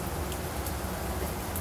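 Rain falls steadily in a close, even hiss with no gaps and no voices.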